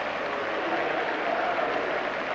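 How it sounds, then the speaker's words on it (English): Applause rolls around Highbury from the football crowd after a goalless 1988 League Cup tie between Arsenal and Liverpool: a broad, distant, steady wash of clapping from the stands. "Applause all around the ground though"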